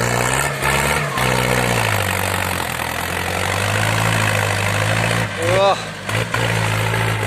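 A farm tractor's steady low engine chugs and idles throughout while working wet soil, with a voice speaking briefly over it near the end.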